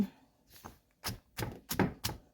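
Onions for a grandmother's bamboo shoot curry with jackfruit are pounded in a small mortar, giving a run of about six dull, sharp thuds that fall irregularly and pick up pace toward the end.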